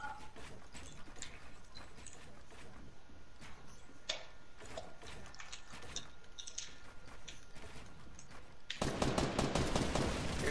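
Rapid gunfire from a video game shooter, dense streams of shots rattling continuously throughout, with a louder, harsher burst of firing near the end.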